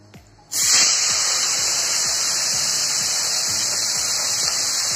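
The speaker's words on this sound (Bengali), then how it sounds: "এখন হচ্ছে চিংড়ি মাছ ভাজার পালা দিয়ে দাও" Shrimp drop into hot oil and set off a sudden loud burst of sizzling that settles into a steady, close hiss with faint crackles underneath.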